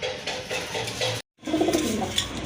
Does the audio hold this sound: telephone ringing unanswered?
no